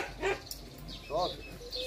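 A dog barks during an obedience training session, two short, close barks spaced apart, with a person's voice and faint background noise around them.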